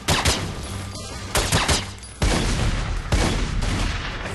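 Gunfire in The Godfather II video game, a series of loud sharp shots in quick bursts with bangs spread irregularly through the clip, dense and close.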